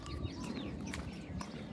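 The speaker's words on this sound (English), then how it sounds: "Look at the little chicken." Small chicken clucking softly and steadily among a backyard flock, with brief chirps rising over a continuous low murmur of fowl sounds.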